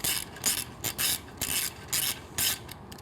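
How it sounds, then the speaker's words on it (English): A 6mm Allen ratchet clicks in repeated bursts of quick pawl ratcheting while tightening a bolt on a header bracket of a Triumph Street Twin motorcycle, close and fairly quiet, with short pauses between strokes. "push the bolt through, our 6mm Allen, start tightening."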